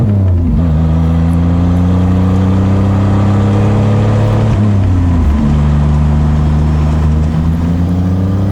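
A Ferrari F355 replica fitted with a supercharged 3800 engine drives past close and loud, its steady engine hum dipping and climbing again at several gear changes, with no talking.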